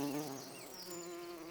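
A bee buzzes in flight, a steady droning hum with slight pitch shifts, close and alone.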